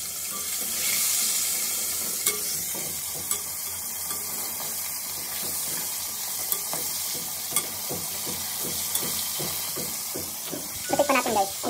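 Flour-coated marinated chicken fries in a pan, a continuous sizzle broken by stirring clatters and a few sharp knocks near the end, with some talk in the background.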